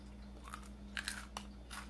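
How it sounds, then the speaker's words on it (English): A crunchy fried corn barbecue snack is bitten and chewed up close, giving a few quick, crisp crunches over a quiet background hum. "I don't know if you heard the crunch on that."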